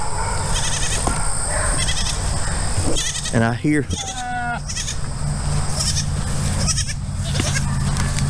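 Goats bleating on a homestead where does have recently kidded, several wavering close-up bleats in the middle of the clip amid outdoor background noise, with a person talking.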